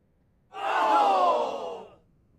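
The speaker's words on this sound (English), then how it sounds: "And did you hear the cheering, Dave?" A short crowd cheer sound effect plays at a trivia night, a single roar of voices swelling for about a second and a half before fading, loud and alone.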